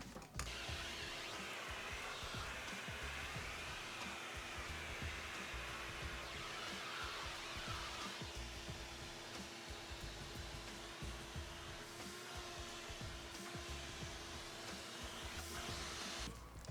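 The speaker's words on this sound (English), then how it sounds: "I'm gonna give it a quick vacuum." A vacuum cleaner drones at a steady level throughout, cleaning along a kitchen tile backsplash before caulking. Its whirring motor hum holds constant with no talk over it.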